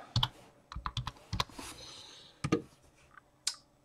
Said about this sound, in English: Let's get over here and type.